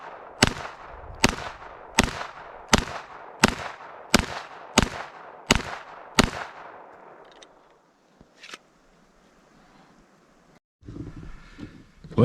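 Ten sharp, evenly spaced pistol shots from a Glock 17 ring out in quick succession at an outdoor range, each crack loud and close, followed by quieter shuffling and handling noises.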